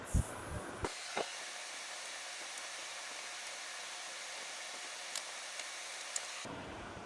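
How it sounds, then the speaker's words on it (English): Kitchen vent fan running above the stove: a steady, even airy hiss that holds constant for several seconds, with a few faint clicks, then cuts off abruptly near the end. "Now we can turn the vent fan off."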